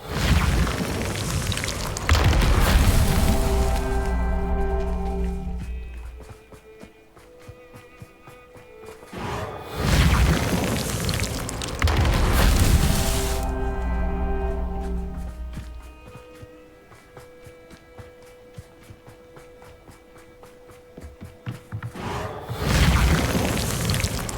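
Repeated booming blasts of the Confringo explosion spell in Hogwarts Legacy, three or four heavy bursts spaced across the span, each followed by a rumbling, ringing decay with tonal game music between them.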